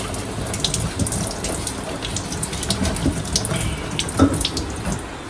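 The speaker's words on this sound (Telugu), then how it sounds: "జస్ట్ పైన వాటర్ ఇలా ట్యాప్లో వాటర్ తిప్పేసి జస్ట్ ఇలా క్లీన్ చేసేసుకుంటే సరిపోతుంది" Kitchen tap water running steadily while a cooking tool is rinsed under the stream, a continuous close splashing hiss with small clatters.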